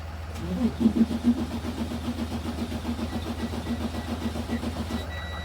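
A pickup truck's engine is cranked repeatedly in a steady, even rhythm without firing up, the starter's pulsing churn carrying on for several seconds before cutting off near the end.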